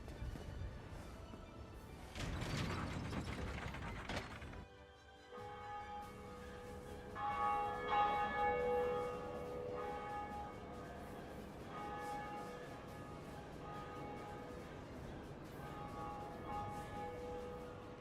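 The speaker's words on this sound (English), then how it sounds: "I think first we gotta ring the bell to summon him." A bell rings out in the Dark Souls video game, a few resonant strikes with long ringing decay over a quiet ambient background, no talking.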